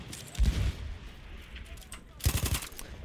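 A Parabellum machine gun fires in Battlefield 1 in two short bursts of rapid shots, the first near the start and the second toward the end, with muffled battle noise between them.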